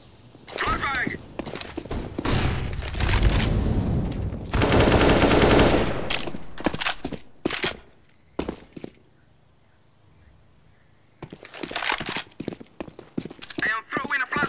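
Counter-Strike: Global Offensive match audio with bursts of automatic gunfire, a loud flashbang blast and running footsteps, close and loud, with short gaps of near quiet between the exchanges.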